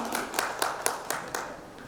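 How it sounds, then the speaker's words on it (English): Audience applause welcoming a speaker at an education leadership summit, with about six steady claps or bursts, fairly close and even, and no talk over them. "A huge round of welcome and applause"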